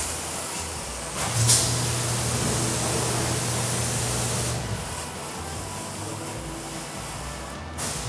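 A spray bottle lets out a few short hissing bursts of light mist of a car-coating maintenance product over a constant background hiss.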